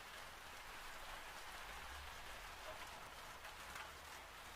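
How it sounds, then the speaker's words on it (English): Steady rain pours down in a soft, continuous hiss with no pauses, heard alone and fairly faint. "The rain continued."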